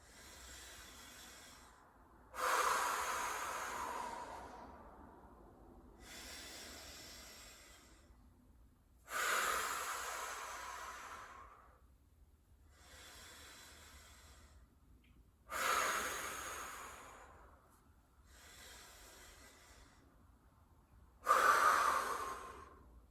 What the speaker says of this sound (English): Let's take 5 deep breaths.